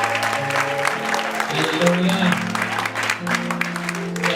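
A church congregation at a Sunday service applauds and acclaims God, steady clapping and cheering running under a preacher's voice and sustained organ or keyboard chords.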